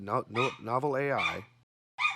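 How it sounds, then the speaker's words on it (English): A pet dog vocalizes in a quick series of close, whining yips and bow-wow barks, with a drawn-out whimpering yowl in the middle and one more short bark after a brief pause. "there's my dog."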